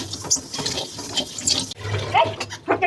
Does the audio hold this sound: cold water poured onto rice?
yes